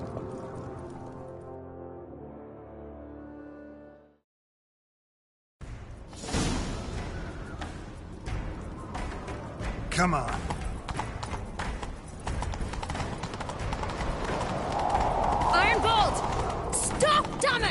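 Horse hooves pound in the video game The Witcher 3, a steady gallop rising in intensity over clattering action, after a tonal stretch and a short silence, with a voice calling out briefly.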